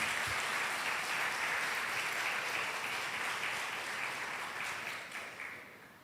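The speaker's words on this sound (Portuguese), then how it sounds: "aplauda bem forte" Church congregation applauding loudly, a dense, sustained wash of clapping that fills the space, then tapers off near the end, with no speech over it.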